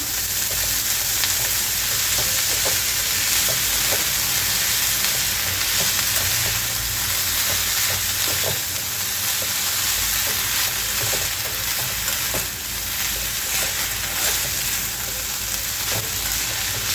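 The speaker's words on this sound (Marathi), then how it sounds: "याला छान परतून घ्यायचं आहे आता परतताना आपल्याला गॅस थोडंसं मिडियम ठेवायचा आहे" Purslane leaves sauté in a pan over medium heat, giving a steady, close sizzle that holds for the whole stretch with occasional soft stirring scrapes and no speech.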